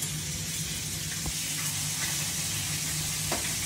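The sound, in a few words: onion and garlic sizzling as they fry for paksiw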